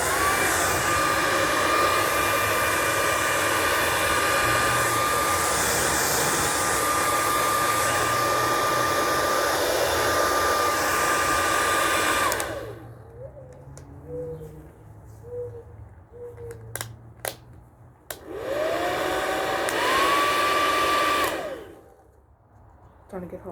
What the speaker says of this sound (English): Actually, I'm gonna blow dry the back of the Xbox.